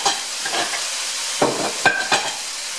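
Ground meat for game day chili browns in a hot pan with a steady sizzle. A spoon scrapes and breaks it up in several distinct strokes, close to the listener.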